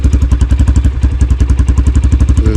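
A Shineray VXR 300 motorcycle engine growls close by, with a deep, rapid, pulsing throb that stays loud and even throughout.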